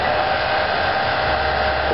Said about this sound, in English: all I do is put the blow dryer up to it